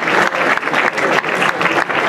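A crowd at a press conference for the Hannover Indians versus Langenhagen Scorpions ice hockey game claps loudly for the entrance staff and service workers, a sustained, full round of applause that swells and dips slightly.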